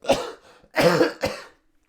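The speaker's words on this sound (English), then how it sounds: "my cough's gotten worse" Three harsh coughs close to the microphone, a short one, then a longer raspy one, then a final shorter one, followed by quiet.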